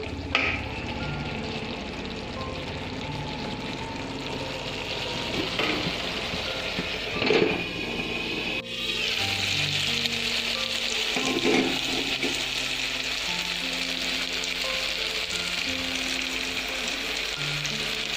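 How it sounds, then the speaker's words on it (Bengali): Spice paste (masala) for a cabbage dish fries and is stirred in a pan, a steady close sizzle with scraping stir strokes around the middle and a faint tonal hum underneath. "আর একটু মশলাটা কষিয়ে নিয়ে তারপরে আমি বাঁধাকপি দিয়ে দেবো।"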